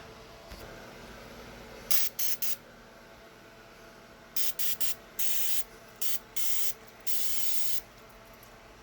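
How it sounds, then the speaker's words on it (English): Permatex Super Penetrant sprays onto fasteners during a Coleman BT200X CV clutch installation, in about eight short hissing bursts of varying length, close and moderately loud over a quiet background. "I'm going to be using some Permatex Super Penetrant."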